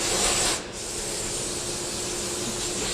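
Wood is being sanded on a sander in a woodshop. A steady, loud abrasive hiss holds throughout, broken only by a short dip early on, with no talk.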